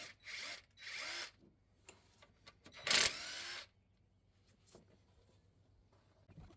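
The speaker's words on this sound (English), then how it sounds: "Now we'll remove the 2 bolts holding on the alternator." Bolts holding the alternator being removed from a 2004 Chevrolet Express 3500 with a 6.0 engine, heard as a few brief power-tool whirs and one louder burst, with quiet clinks and pauses between them.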